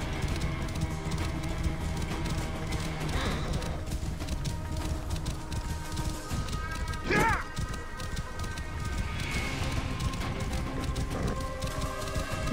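Hooves clip-clop in a steady running rhythm over game music and ambient tones in Assassin's Creed Origins, with a short whinny-like burst partway through.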